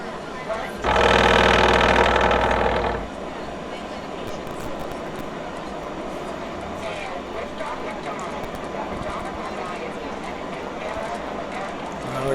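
Simulated rocket engine ignition at the NASA Houston Space Center, a loud broadband roar that bursts in near the start and cuts off after about two seconds, followed by steady crowd or room noise.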